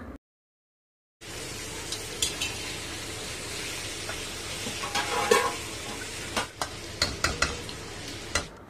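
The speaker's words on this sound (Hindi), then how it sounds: "इसे डाल देंगे और 1 मिनट तक प्याज के साथ इसे भून लेंगे" Mutton frying with onions and ginger-garlic paste for bhindi gosht, a continuous sizzle broken by repeated sharp scrapes and knocks of a spoon stirring in the pan, after a brief silent start.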